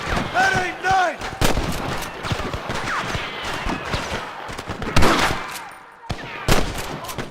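Gunfire from Red Dead Redemption, a Western shootout against rustlers: rapid, loud sharp shots and cracks over music, with shouted voices in between.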